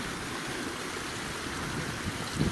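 A mountain river in the Harthope Valley flowing steadily, a continuous hiss and gurgle of rushing water heard close and alone.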